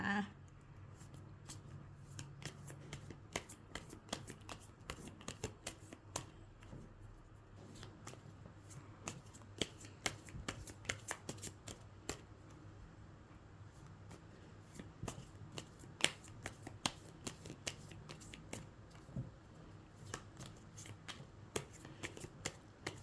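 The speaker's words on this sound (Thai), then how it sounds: "ขอเป็นตัวแทนสับไพ่ตัดไพ่ให้คนเกิดวันอาทิตย์นะคะ" Tarot cards are shuffled and cut by hand in a long run of soft riffling flicks and taps, close and quiet, with faint speech now and then.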